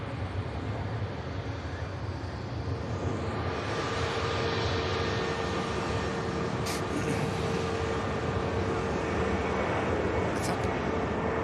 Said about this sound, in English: Nice touchdown from the Neo